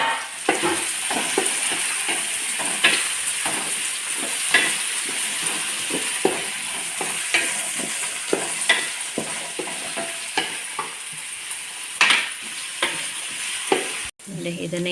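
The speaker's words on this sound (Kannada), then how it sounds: "ಈ ಥರ ಹುರ್ಕೊಳ್ಬೇಕು ಮತ್ತು ಇದು ಹುರಿತಾ ಇದ್ದಂಗೆ ಪರಿಮಳ ಬರ್ತದೆ ನೋಡಿ" Spices for sambar fry and sizzle in a pan, with repeated scraping stirs and clinks throughout, close and steady with no talk.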